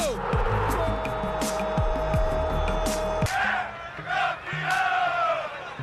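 Corinthians football supporters in a stadium erupt in a loud, sustained crowd roar and chanting after a save, a dense wall of cheering that swells and stays near and full throughout.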